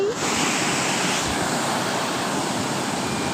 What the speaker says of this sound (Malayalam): തിരമാല രൂപപ്പെടുന്നുണ്ടോ വളഞ്ഞു ചുറ്റി എന്താ വരവ്